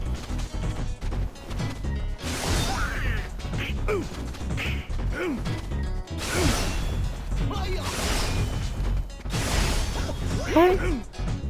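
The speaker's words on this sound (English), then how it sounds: "You hear the shing from the Gunblade, and then you hear the explosion." Video game Gunblade attack: a sharp metallic slash and swooshing blows followed by booming explosions and crashing impacts, loud and dense, with layered effects filling the whole stretch.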